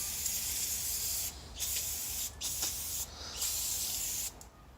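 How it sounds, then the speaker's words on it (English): Brake cleaner sprayed under high pressure onto an engine block, a loud continuous hiss broken by several short pauses between bursts, with no talking. "High pressure cleaning, brake clean."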